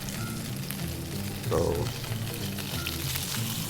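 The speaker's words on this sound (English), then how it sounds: "And always try not to crowd your pan when you're frying." Hog snapper fillets pan-frying skin side down give a steady, loud, close sizzle with a brief bright crackle midway as a piece goes in, under a person talking.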